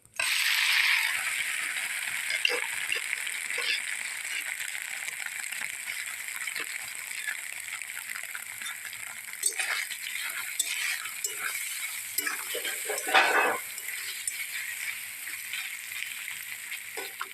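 Grated paneer frying in hot oil with cumin in a pan, a steady bright sizzle throughout with scattered scraping and stirring clatters from a utensil, close and alone.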